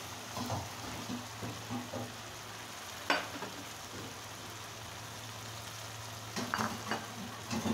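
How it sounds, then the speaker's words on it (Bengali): Prawns (one kilogram of fish) sizzle steadily in spice paste as they are sautéed, with a constant frying hiss broken by occasional stirring scrapes and clinks. "এখন আমি 2 থেকে 3 মিনিট জাস্ট মাছগুলোকে কষিয়ে নেব।"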